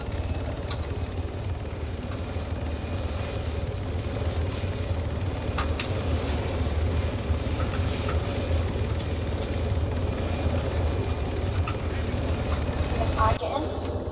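In the Arma 3 video game, an AI helicopter's rotor and turbine drone steadily and loudly throughout takeoff, a continuous low beating roar with a brief shift near the end; a voice talks over it.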